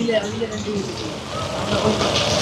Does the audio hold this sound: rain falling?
yes